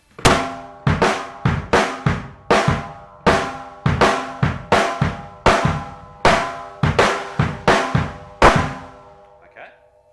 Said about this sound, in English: I'm going to play 5 on the bass drum and 4 on the snare